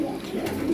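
A pigeon cooing up close, a brief low throaty burble over steady background noise.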